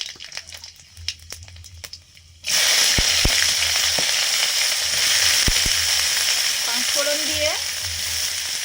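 Panch phoron spices hit hot oil for a Bengali cabbage curry, bursting into a loud, steady sizzle after a quiet start, with scattered sharp pops and crackles throughout.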